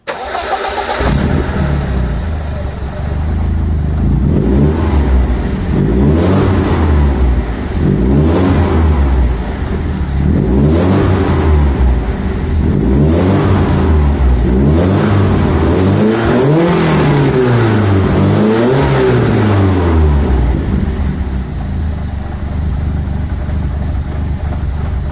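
A BMW 318i E30 fitted with a custom cold air intake idles and revs repeatedly, its engine note rising and falling in steady cycles, loud and close with the hood open and no talking.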